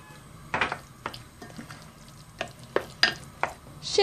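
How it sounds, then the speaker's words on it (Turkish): Garlic cloves grated by hand over a bowl of eggplant, giving a series of short, close rasping scrapes in uneven bursts with quiet pauses between strokes. "Sarımsaklarımı rendeliyorum."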